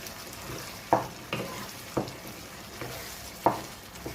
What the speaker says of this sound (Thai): ผัดคลุกเคล้าให้เข้ากัน จนไข่ของเราสุก